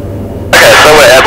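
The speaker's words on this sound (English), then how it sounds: "And we're airborne. Climb out in this aircraft is 65 knots." Taildragger airplane engine climbing out after takeoff at 65 knots: after a brief quiet moment, a loud, steady engine drone and rush of air abruptly fill the cabin and hold.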